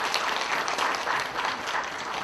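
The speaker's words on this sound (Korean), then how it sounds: "경의의 큰 박수 다시 한 번 더 부탁드리겠습니다" Attendees at a Busan atopy and asthma prevention program results meeting applaud, a steady wash of many hands clapping in a hall, moderately loud and sustained without talk.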